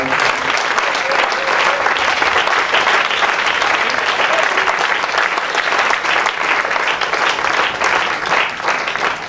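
A church congregation applauding, dense sustained clapping from many hands filling the room for several seconds, with voices faintly mixed in.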